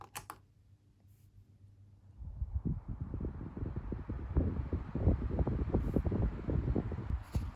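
A Taiwanese-made Micromark fan spins up on its low setting: near silence with a few faint clicks, then after about two seconds a soft, steady whooshing airflow with fluttering rumble that holds to the end.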